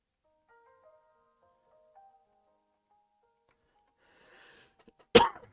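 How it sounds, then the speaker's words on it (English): After near silence with faint faraway tones, a single sharp, close cough bursts out loudly near the end, followed by a brief breathy trail. "I have a terrible cough today."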